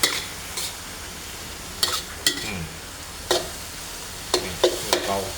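Pork stir-frying over high heat in a wok for Thai pad kaprao, a loud sizzle broken by sharp, repeated spatula scrapes and tosses at an uneven rhythm, close up with no talking.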